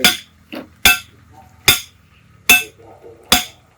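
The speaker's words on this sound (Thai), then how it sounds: "เหล็กนำครับเหล็กนำตอกลงไปเลยครับ" A steel guide stake is hammered into the ground to install a stand for a stingless bee hive box, five or six sharp metallic strikes at a steady, unhurried pace, close and loud with brief ringing after each blow.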